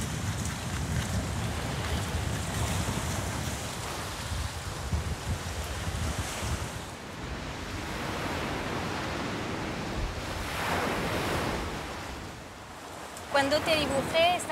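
Continuous wind in Cuba buffets and rushes across the microphone, rising and falling in gusts, with a faint voice briefly near the end.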